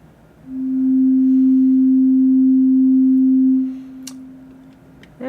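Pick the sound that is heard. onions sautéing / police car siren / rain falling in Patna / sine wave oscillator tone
sine wave oscillator tone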